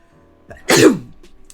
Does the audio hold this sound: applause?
no